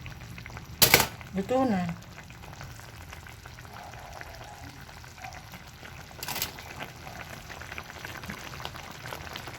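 Broth with sliced onions bubbles softly in a pot in a steady, faint low simmer with a couple of brief clanks, while a person speaks briefly over it.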